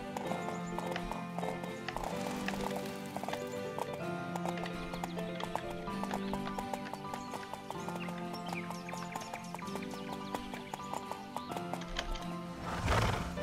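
Horse hooves clip-clop in a steady galloping rhythm in the video game Horse Life, with occasional neighs and whinnies, set over continuous background music and fairly quiet overall.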